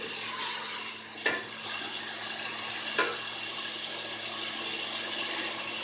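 Chopped onions softening in a pan for keema masala give off a steady, even sizzle, broken by two brief stirring clicks.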